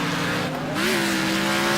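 Race car engine droning steadily with a rising tonal pitch and tire squeal in the racing game Wreckfest, loud and continuous with no talk.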